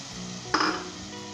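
Onions and spices for beef dalcha sizzle in a pan, a soft steady fry with one brief louder hiss and stir about halfway through.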